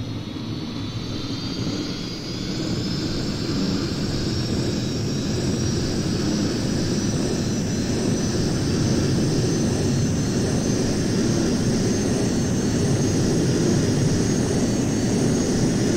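A McDonnell F3H Demon jet engine in a flight simulator game (Prepar3D v4) holds a steady, loud broadband roar with a faint high whine rising slightly near the start, continuous for the whole stretch with no talking.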